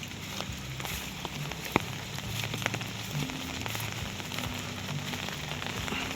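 Steady rain falls continuously on a rural village in Laos during a days-long downpour, a soft wash of drops with occasional sharper patters, moderately faint and without voices.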